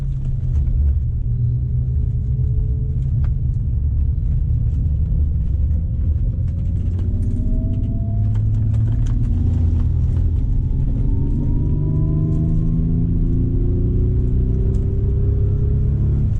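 A Bentley Continental GT engine rumbles loudly and steadily at close range during a drift ride on a track, its pitch rising gradually as the car accelerates, with no voices over it.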